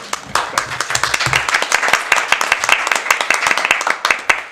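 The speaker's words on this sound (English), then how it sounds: "Should be a round of applause." Applause at a township board meeting in a small room: a handful of people clap in distinct, sharp, closely spaced claps that run steadily for several seconds, near and fairly loud, with a brief murmur of voices at the start.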